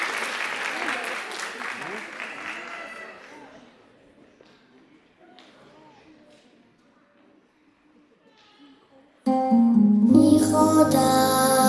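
Applause from an audience at a concert by a regional studio, loud clapping at first that fades away, and then music starts up abruptly.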